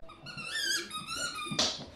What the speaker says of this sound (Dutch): het piepje is er nog niet uit